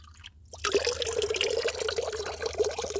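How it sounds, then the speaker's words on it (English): Groundwater trickles and splashes continuously out of a mountainside close by after a brief quiet start, a steady bubbling flow with no one talking. "it's groundwater coming out of the side of the mountain"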